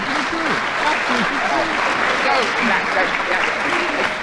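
A studio audience at a radio panel game recorded in London gives a full, sustained round of applause, close and loud, with a voice talking over the clapping.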